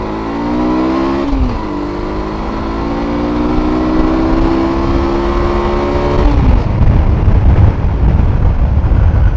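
A 2002 Honda Transalp 650 motorcycle engine revs hard and climbs in pitch through full-throttle first gear, drops briefly at the shift, then climbs again in second before a rough rumble takes over.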